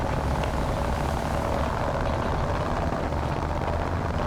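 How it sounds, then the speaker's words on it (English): Engine of a CV9035NL light tank in the War Thunder video game: a steady, loud droning rumble that holds constant throughout, with no talk. "The CV9035NL has an extremely loud engine."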